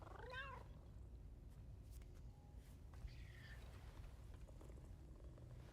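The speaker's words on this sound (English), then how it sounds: "meow meow meow, go kitty kitty." A cat in the video game Death Stranding 2 gives a short meow near the start, followed by faint purring under quiet game ambience.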